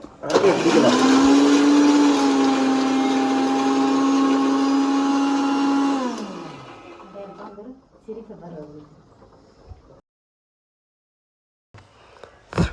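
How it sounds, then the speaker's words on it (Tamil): A kitchen mixer grinder grinding coconut, onion, ginger and garlic for a village country-chicken curry whines loudly and steadily for about six seconds, then winds down, followed by clattering handling sounds and a brief silence. "இதே மாதிரி நல்லா அரைச்சி வச்சுக்கோங்க"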